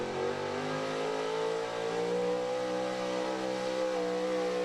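A pulling truck's engine roaring at a truck and tractor pull event, a sustained loud drone with steady harmonics that slowly shift in pitch as it holds high revs through the whole stretch.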